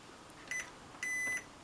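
A multimeter's continuity buzzer beeps while testing wires during a repair of a Cambridge Audio Topaz AM1 amplifier: a short electronic beep, then a longer steady beep, both thin and moderately quiet over faint background hiss.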